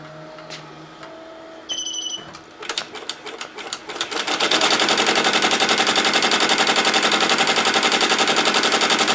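Embroidery machine stitching an applique outline: a few soft beeps and start-up clatter, then a loud, fast, steady rapid-fire needle rattle that builds and keeps going until the end.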